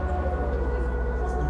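A police or ambulance siren wails steadily behind a bus in Bus Simulator 16, a continuous held tone over low engine rumble throughout.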